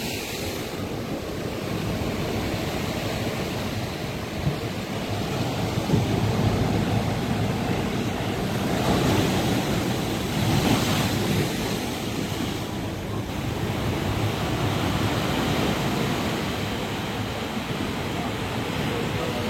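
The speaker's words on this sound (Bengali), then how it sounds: "অমাবস্যার কটালে দীঘার সৈকতে চলছে জলোচ্ছ্বাসের মুহূর্ত। বেশ সমুদ্র প্রচুর উত্তাল।" Rough, high surf at Old Digha beach during a new-moon spring tide, with rain falling, roars continuously as waves crash and wash in, swelling in the middle, mixed with gusty wind buffeting the microphone.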